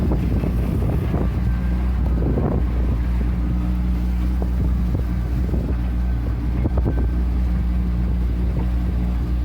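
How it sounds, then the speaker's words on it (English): Steady wind rushing across the microphone while sailing a boat north out of a bay, a loud continuous roar with low engine-like rumble and water wash underneath, no talking. "The wind's pretty good."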